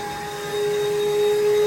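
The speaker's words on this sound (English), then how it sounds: "Now we're going to start cleaning using a traditional vacuum again that has a filter on it." A traditional vacuum cleaner fitted with a filter runs steadily, a broadband whir with a sustained tonal whine that steps up and grows louder partway through, with no talking.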